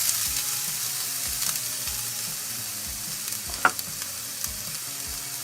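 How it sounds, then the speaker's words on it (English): A cup of onions goes into hot oil for salsa ranchera and sizzles steadily. Faint utensil scrapes and taps sound in regular strokes under the frying, with no talking. "I'm going to add my cup of onions."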